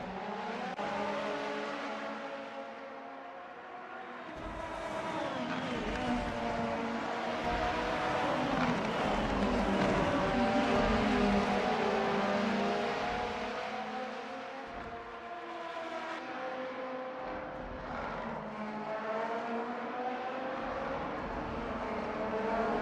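Race car engines drone through a racing video game at Fuji, a dense train of cars whining and shifting pitch continuously, fairly quiet and unbroken for the whole stretch.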